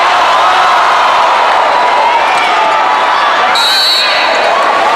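Loud, sustained cheering and whooping from an indoor volleyball arena crowd at a Shakey's V-League finals match between UST and San Sebastian, a dense roar filling the hall with a sharp whistle cutting through near the end.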